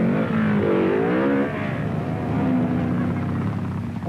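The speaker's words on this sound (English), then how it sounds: "the roar of 309 motorcycles" Motorcycle engines roar in a 1964 desert hare scramble race with 309 riders, loud sustained revving with rising and falling pitch as bikes accelerate, the engine drone dominating throughout with no talk.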